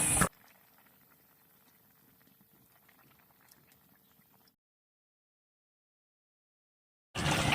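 Fish curry gravy with salt, turmeric, chilli and cumin paste simmering in a pot, giving soft, faint, continuous bubbling for a few seconds before silence, with no voices.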